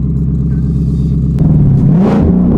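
A Ford Mustang engine with a Holley Sniper setup revs hard to around 8,000 RPM, a loud, steady high-pitched roar that climbs and wavers near the close, with no voices over it.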